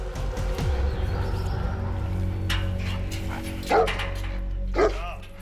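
Trained guard dogs posted between the inner and outer walls of a Croatian prison bark at night, a couple of short, sharp barks at mid distance over a low rumbling background with some faint voices.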